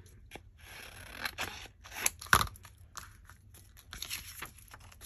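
Scissors snip through paper in a handful of quick, crisp cuts, one sharper snip standing out, with light paper rustling in between at a quiet, close level.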